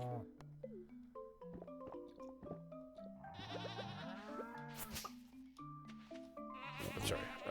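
A goat in the Stardew Valley farming game gives short bleats over a busy layer of plinking, tuneful game music and chirpy effects, all fairly quiet.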